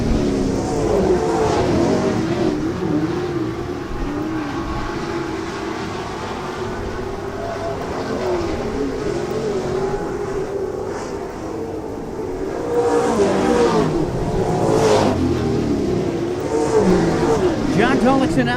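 Stock cars race at Casino Speedway with a continuous loud engine roar, rising and falling as the field circles the track in a Midwest Mod and Super Stock event, under steady announcer talk.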